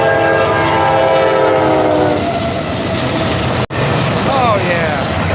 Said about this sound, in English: And there's the horn.